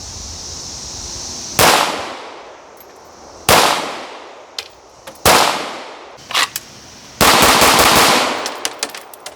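Shots from a Ruger 57 pistol chambered in 5.7x28, fired outdoors: four loud, sharp reports spaced a couple of seconds apart, each trailing off in echo, with fainter clicks and handling noises between them.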